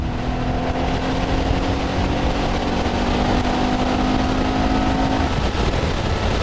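A Kawasaki Z400 motorcycle engine drones steadily and loudly around 6,500 rpm at 65 to 70, holding a constant high pitch, buzzing continuously at full throttle with no pauses.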